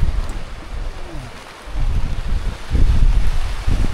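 Strong typhoon wind batters a cliffside campsite in Atok, Benguet, roaring and gusting in loud rumbling buffets against the microphone, swelling heavier in the second half.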